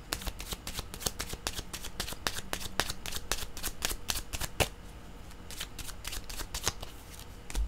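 Tarot-style cards being shuffled for a card reading: a rapid series of crisp, close riffling bursts in an uneven rhythm throughout, with no talking.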